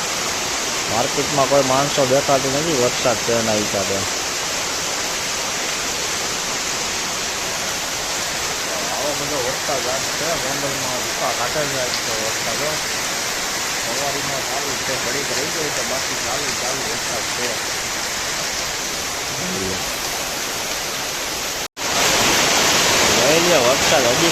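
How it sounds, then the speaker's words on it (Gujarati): Dense, roaring downpour of heavy rain in Gondal, constant and close, with a voice briefly audible early on. "ગોંડલમાં ધોધમાર વરસાદ"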